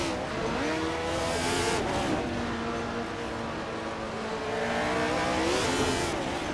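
Race cars in a racing video game roar continuously with engines rising and falling in pitch as they shift and accelerate, several cars blending into a steady loud drone.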